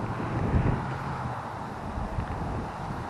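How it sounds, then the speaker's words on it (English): Steady wind blowing outdoors during fly fishing for bluegill, a continuous broadband rush with buffeting gusts against the microphone, fairly loud and unbroken. "Wow, the wind is really picking up now."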